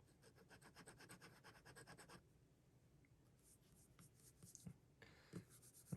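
Montblanc Meisterstück 149 fountain pen with a fine nib scratching across paper in close, quiet strokes, a rapid run of short scribbles followed by slower, separate pen movements.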